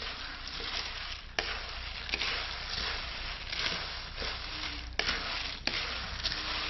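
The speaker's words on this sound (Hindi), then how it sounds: "हम मूंगफली भून रहे हैं" Peanuts roasting in a pan at home late on a winter night give a steady dry sizzle and rattle, with occasional sharper scrapes and knocks as they are stirred, close and continuous with no talk.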